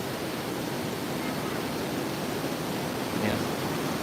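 River current rushes steadily beneath a living root bridge in Pesisir Selatan, a dense, continuous roar of flowing water heard close and loud without pause.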